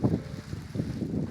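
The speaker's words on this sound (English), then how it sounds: "wind is definitely picking up" Wind gusting around a forest campsite in summer, a low rushing buffet against the microphone that swells and eases over a brief moment, close and moderately loud.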